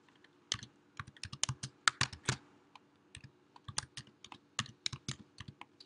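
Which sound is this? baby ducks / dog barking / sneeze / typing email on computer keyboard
typing email on computer keyboard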